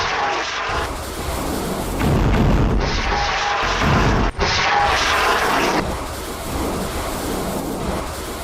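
A full salvo of Hezbollah rockets launched toward the Adamit settlement, heard as a sustained roaring rush with heavy low booms swelling and fading across the whole stretch, loud and continuous with no voices.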